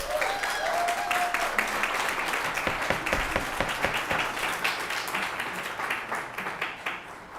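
Applause fills a school committee meeting room, a crowd clapping loudly at first and then thinning into scattered, distinct claps as it fades toward the end.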